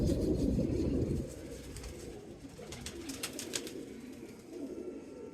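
Pet pigeons at a rooftop loft in Karachi cooing with low, soft rolling calls, fuller at the start and then steady under faint background noise.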